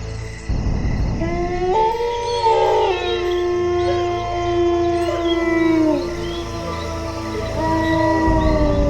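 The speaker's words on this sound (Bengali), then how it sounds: "দূর থেকে ভেসে আসছে শিয়ালের ডাক" Jackals howl in a drawn-out, wavering chorus, several voices rising and overlapping for several seconds, clear and fairly loud against a dark, quiet roadside backdrop.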